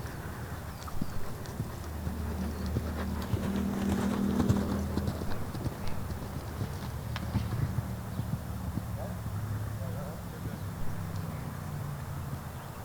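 A schooled horse's hooves clip-clop in steady rhythm during jump schooling, moderately close, with faint voices and some background noise underneath.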